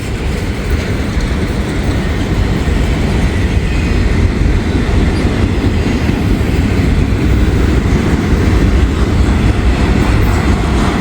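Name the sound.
long freight train passing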